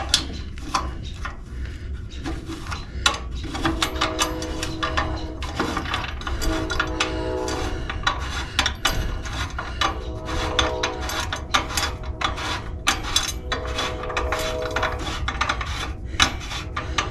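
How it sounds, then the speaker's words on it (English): A ratchet tightens the front belt on a pulley, giving repeated rhythmic clicks and mechanical rubbing at close range that run steadily throughout. "Need to tighten the front belt"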